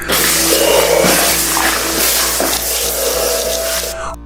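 A liquid chemical sloshes and splashes heavily across a wet floor, a continuous loud watery churning with a faint tonal hum beneath, lasting several seconds without talk.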